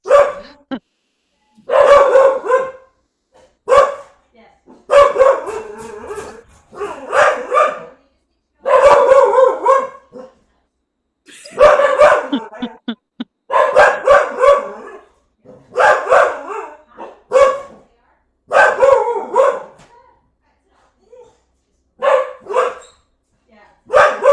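Repeated bursts of barking and yipping, loud and close, coming in irregular clusters separated by short silences.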